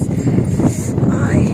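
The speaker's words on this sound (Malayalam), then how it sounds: "നല്ല കാറ്റുണ്ട്" Wind buffets the microphone with a constant low rumbling roar throughout, masking everything else.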